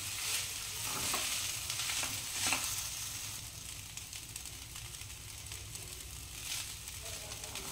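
Lemon rice with salt being mixed in a pan, a steady faint sizzle under repeated spoon scrapes and stirring strokes, close and fairly quiet.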